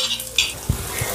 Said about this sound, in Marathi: एक मोठा कांदा बारीक करून घेतलेला आहे तो टाकते आणि मिक्स करते